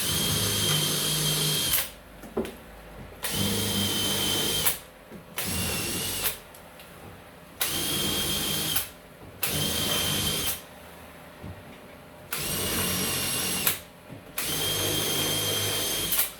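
A power drill runs in repeated bursts of a few seconds each while driving fixings into a timber door lining, with short pauses between runs, close and loud with no talk.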